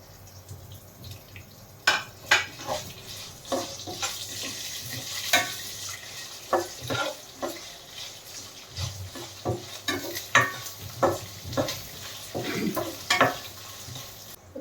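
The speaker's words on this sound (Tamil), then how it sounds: "இப்போ கருவேப்பிலை சேர்த்துக்கலாம்." Curry leaves sizzle and crackle in hot oil with lentils while being stirred for mango rice, close and fairly loud, with repeated sharp spatters and scraping stirs and no talking.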